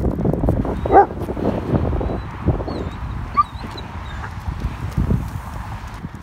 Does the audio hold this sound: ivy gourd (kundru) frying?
no